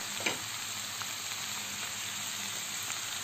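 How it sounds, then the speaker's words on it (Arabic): Onion and pepper sizzle and fry in a hot pan for a sauce, a steady close hiss with faint occasional stirring clicks and no talking. "نخلي الجون داشي والبصله والفلفل يتقلاو لي مليح"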